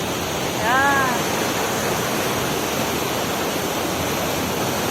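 Continuous broadband rush of the flooded Pinjal River, loud and steady like a swollen river, with a brief high whistle-like call early on.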